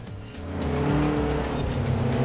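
A Volkswagen Golf races in Forza Horizon 4, its engine droning and rising in pitch while the tires squeal through a corner, loud and close, with no talk.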